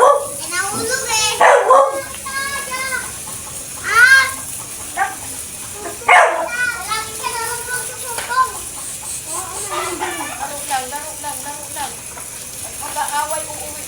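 A family dog barks in a few short bursts amid excited children's voices and chatter outdoors, the yaps rising over the steady talk.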